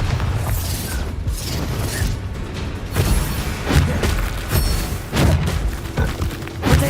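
Confringo and Bombarda spell blasts in the Hogwarts Legacy video game land as loud booming thuds and mechanical clatter, repeating in quick succession through a dense, busy combat mix.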